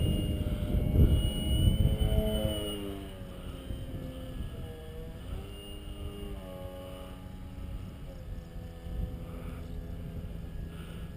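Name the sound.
airplane flying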